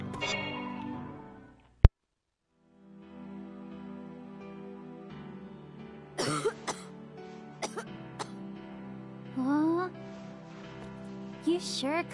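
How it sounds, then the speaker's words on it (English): A character in Final Fantasy Type-0 HD, said to have mild asthma, clears the throat and coughs in a few short, sharp bursts over game music, after a sudden loud click and a moment of silence. "You sure cough a lot sometimes, Remsky."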